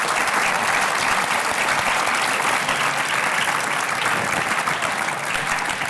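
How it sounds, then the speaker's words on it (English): Audience at a live panel discussion at a school giving the panel a big round of applause, a dense, continuous roar of clapping that stays loud and steady throughout. "So let's give our panel a big round of applause."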